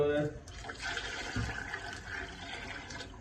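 Water is poured by the glassful into a cooking pot for mutton yakhni, a continuous close pouring and trickling splash with a faint knock of the glass partway through.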